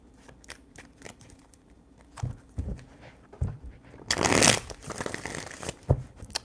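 A deck of tarot cards is shuffled by hand, giving soft irregular riffling and crunching, with one loud dense burst of shuffling in the middle, close by and without talk.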